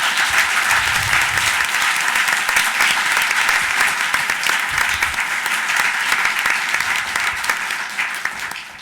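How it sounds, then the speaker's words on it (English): Audience applause at a moot court finals event, a dense continuous wash of clapping that holds steady for several seconds before thinning toward the end. "So if we could give her a round of applause, that'd be great."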